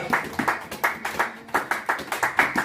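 A congregation clapping in a steady, rhythmic beat, about four claps per second, fairly close and uniform, with no voices over it.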